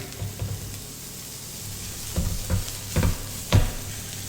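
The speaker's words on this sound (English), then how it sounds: "In goes the bacon." Bacon fries in butter in a pan as a base for pasta carbonara, a low continuous sizzle broken by several sharper spitting crackles and spatula scrapes that grow busier toward the end, close with no voices.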